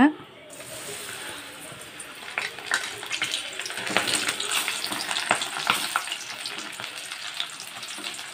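Corn kernels fry in hot oil with a steady, bubbling sizzle and scattered crackles throughout, close up and with no talking.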